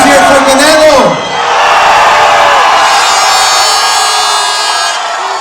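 Loud crowd cheering and whooping at a boxing press conference for Golovkin and Canelo in New York, a voice over a roaring crowd at the start, then sustained hollering and cheers filling the room.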